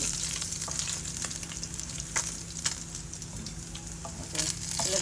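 Baim fish sizzles and crackles steadily in hot oil in a pan, a continuous close frying hiss with scattered pops and occasional stirring clatter.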